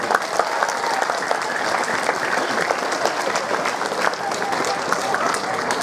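Students at a junior high school in Jambi applaud in a large, steady crowd, a dense wash of clapping that holds at an even level throughout.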